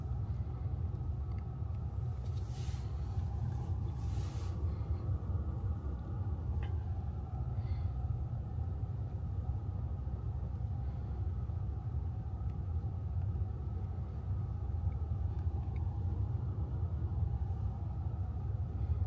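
Car driving with a roof-mounted LS300 3D laser scanner, a steady low road rumble and engine drone throughout, with a few faint hissy bursts early on and no talking.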